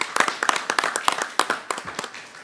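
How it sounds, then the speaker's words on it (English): Scattered hand clapping from a small city council meeting audience, a short run of sharp, uneven claps at moderate distance that thins out toward the end. "We applaud you, Cliff."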